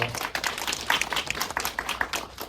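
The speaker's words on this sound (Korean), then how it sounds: "박수 부탁드립니다" A small audience at a film screening Q&A claps briefly: a short patter of scattered claps over a few seconds, fairly close, with no one talking.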